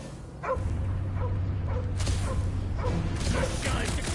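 Cosmo the space dog from Guardians of the Galaxy barks and yips several times in short bursts over a low steady hum, with voices talking around the barks.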